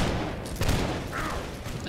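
Musket volley fire in the video game Holdfast, a dense crackling burst of many shots near the start swelling into a loud boom, followed by scattered distant reports and a rising whine.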